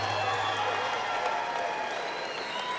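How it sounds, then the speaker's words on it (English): A boxing crowd at the Boeing Tech Port in San Antonio, Texas applauds the fighters after four rounds, dense steady clapping from a large audience that fills the whole stretch. "can I get a big round of applause for both of these young warriors?"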